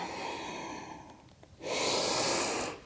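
A strong, steady breath out during a yoga flow, rising suddenly and holding loud and close for about a second before fading, following a quieter stretch of breathy room sound.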